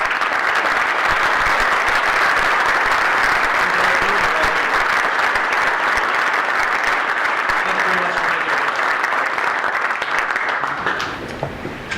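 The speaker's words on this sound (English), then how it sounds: "Let's give them all a round of applause." Sustained applause from a large audience at a PGA section annual meeting, loud and steady clapping that fills the room and tapers off slightly at the very end.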